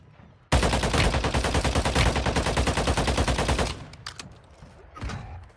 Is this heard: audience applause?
no